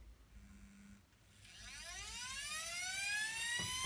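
A Beko WM85135LW washing machine motor runs on a bench test with brushes in place, spinning up with a rising whine that climbs steadily in pitch and loudness after a brief low hum.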